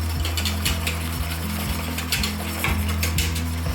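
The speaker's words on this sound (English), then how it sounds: "because you are whisking rather vigorously" Vigorous whisking of polenta with chicken broth in a deep pot, a steady rapid metallic scraping rhythm of the whisk against the pot, continuous and close, with no talking.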